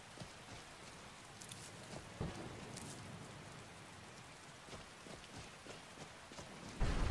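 Steady rain falls in a fishing game, a soft continuous patter of drops with a few brief louder taps, sounding close and even throughout with no talking.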